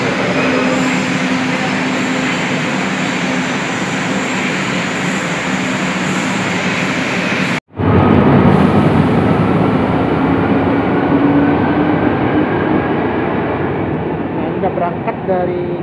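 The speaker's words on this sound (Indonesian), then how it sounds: "Nah, ini kereta yang ke Jakarta Kota ya" A commuter train bound for Jakarta Kota rumbles loudly through Juanda station at night, a sharp break in the roar midway, with people talking over the steady rail noise.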